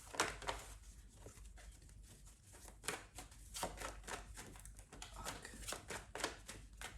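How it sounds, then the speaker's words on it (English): Tarot cards being shuffled in quick riffling bursts, crisp papery flutters repeating close up, with brief pauses between shuffles. "Let's see if the deck would let me shuffle it."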